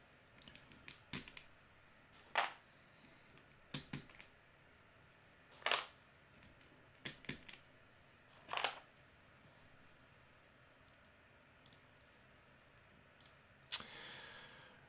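Keycaps being pried off a mechanical keyboard, with HMX switches holding them loosely: a string of separate plastic clicks and snaps, close and fairly quiet, spread unevenly with short pauses between pulls.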